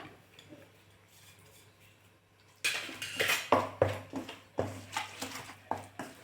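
A spoon clinks and scrapes against a kadhai while powder is stirred in a little ghee to cool it. Quiet at first, then a run of sharp, close metallic knocks and scrapes.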